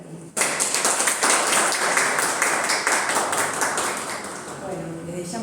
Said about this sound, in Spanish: Así que un aplauso para ti.